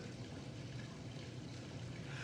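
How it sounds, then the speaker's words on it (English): Rain falling outdoors, a steady soft broadband hiss with no distinct drops, faint and even throughout with no talk. "It means it's raining while I am filming."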